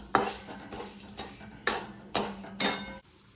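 Chana dal and urad dal roasting in oil while a utensil stirs them in a pan, five distinct scraping clinks at a steady rhythm over a faint sizzle.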